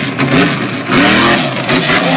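A Monster Jam truck engine revving hard on a dirt course in Stafford Springs, loud and continuous, surging in pitch with two distinct rises, close and dominant with no talk.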